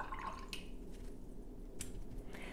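Water is added to watercolor paint to dilute it, giving a few soft drips and small wet splashes, quiet and close against a low room hiss.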